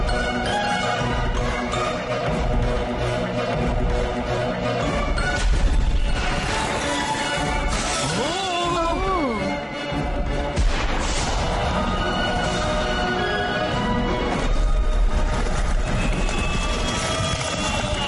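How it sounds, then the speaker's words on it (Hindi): Fireworks in an animated film's display burst in a dense, loud barrage of booms and crackles, with whistling rising streaks partway through and no let-up across the whole stretch. "अब आतिशबाजी का शानदार कार्यक्रम देखो।"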